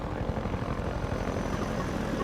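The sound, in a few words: combat helicopter in the video game Half-Life 2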